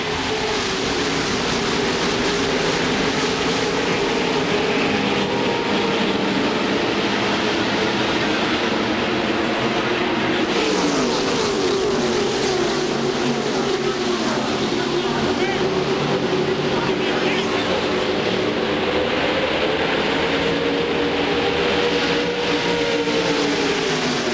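NASCAR stock car field at the green-flag start of the 1998 Winston 500, a loud continuous roar of many engines with shifting pitch as the pack passes, under a commentator's voice.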